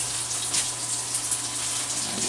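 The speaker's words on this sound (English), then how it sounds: "Let me wash my hands a minute here." Water runs steadily from a kitchen tap as hands are washed, a continuous close rushing flow with no pauses.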